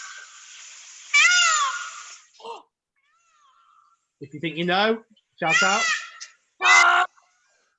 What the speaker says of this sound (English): It sounds like that bird from Up.